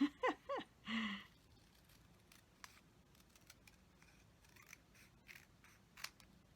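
Paper cut with scissors for a handmade memory pack card: a few close, soft snips and light rustles after a brief tonal sound at the start, with quiet pauses between cuts.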